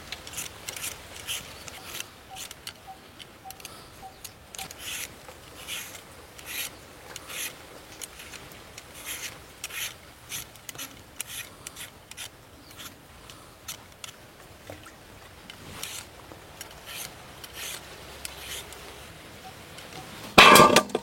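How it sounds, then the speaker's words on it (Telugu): Potatoes being peeled for homemade crispy chips make soft, close scraping strokes that repeat steadily throughout, with a sharper knock right at the end. "అన్నీ చెక్కు తీసుకున్నామండి."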